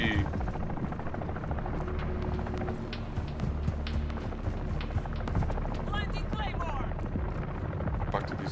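A steady helicopter rotor drone fills the scene in Call of Duty DMZ, mixed with gunfire-like bursts and game noise, while voices talk over it.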